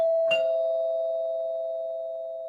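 A doorbell rings once with a sharp struck onset, then leaves a steady electronic tone that holds and slowly fades for a couple of seconds, close and clear, with no voices.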